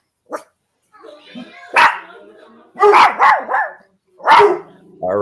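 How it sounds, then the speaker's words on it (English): A small dog barks loudly in sharp, repeated bursts, a few yaps spaced across several seconds, close by in a room during a football watch party. "That little dog is loud."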